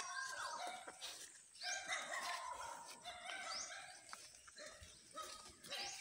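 Dogs bark and yip repeatedly nearby, sharp overlapping barks with some whimpering, fairly faint overall.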